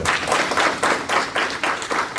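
A church congregation applauds the Lord for its ministers during a Portuguese-language sermon service; a burst of clapping with slightly uneven pulses, full and close throughout, with no speech over it.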